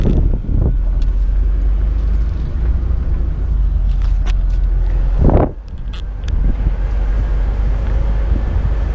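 A car rumbles across an old bridge in rural Missouri, a steady low road drone buffeted by wind, with scattered rattles and knocks and a sharp clatter midway.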